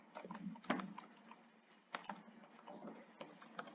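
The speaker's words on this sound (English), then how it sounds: "Let me try to type something" Quick typing on a computer keyboard in short clattering bursts, close and faint, with a few sharper key strikes and brief gaps between runs.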